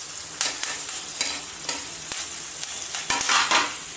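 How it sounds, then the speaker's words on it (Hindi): Steady sizzling and crackling of sago, green chilies and curry leaves in a hot pan, with occasional scrapes of a spoon stirring through it. "तड़कने की आवाज़ आ रही है आपको"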